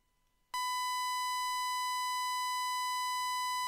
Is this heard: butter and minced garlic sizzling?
no